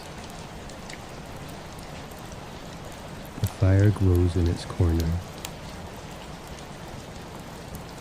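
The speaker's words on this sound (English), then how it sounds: "The rain falls on the old glass." Steady rain patters on old window glass in a cozy Victorian tearoom, a constant soft wash that runs the whole time, with a calm voice speaking briefly in the middle.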